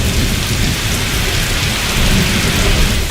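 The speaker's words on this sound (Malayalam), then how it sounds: "ഇപ്പോൾ നല്ല മഴയുണ്ട്." Heavy rain with thunder falls during a monsoon rescue search, a loud, unbroken roar of downpour with deep low rumbling underneath, close and steady with no talking.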